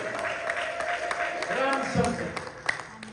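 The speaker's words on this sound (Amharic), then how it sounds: "እልልታ ጭብጨባ ይሁን" A church congregation bursts into applause and ululation in praise, a continuous crowd roar of clapping and high trilling voices that stays loud throughout and ends with a few scattered claps.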